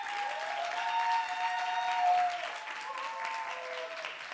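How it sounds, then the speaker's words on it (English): Sustained audience applause at a youth policy pitch event, steady and moderately loud across the whole stretch, with a dense crowd texture and no voices standing out. "a round of applause"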